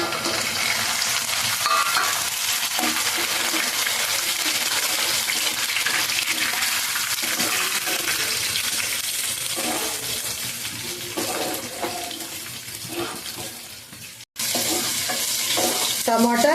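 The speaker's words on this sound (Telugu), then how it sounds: "ఉల్లిపాయ చక్కగా అయితే వేగుతూ ఉందండి" Onions fry in a pan with a loud, continuous sizzle and crackle, stirred now and then, close by with no voices, broken by a brief cut near the end.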